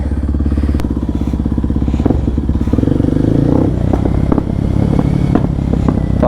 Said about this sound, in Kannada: ಗಾಡಿ ನೋಡಿ ಪಾಪ್ಸ್ ಮೇಲೆ ಪಾಪ್ಸ್ ಹೊಡಿತೈತೆ.